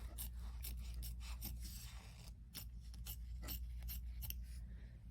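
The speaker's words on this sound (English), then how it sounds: "trim as close as you can to the stitching without cutting your stitching" Scissors trim fabric close to the stitching, with a series of quick, soft snipping cuts repeating at close range over a steady low hum.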